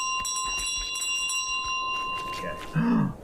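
A golden bell jingles as a goose carries it in Untitled Goose Game, bright sustained ringing over a busy game soundscape, followed by a louder honk-like burst near the end.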